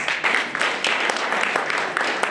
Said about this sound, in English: Let's all please give them a round of applause